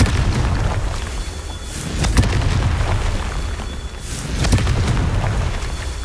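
Confringo explosion spells from Hogwarts Legacy go off as two sharp, loud booms about two seconds apart, each followed by a brief crackling burst over a continuous game ambience.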